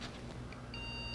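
A computer being repaired during an upgrade emits a short steady electronic beep before POST. The tone starts partway through and holds, moderately loud over a low background hum.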